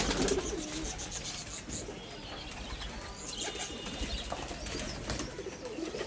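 Imported Madrasi pigeons coo steadily at a home loft, low throaty calls repeating over a constant background of birds, close and fairly loud throughout.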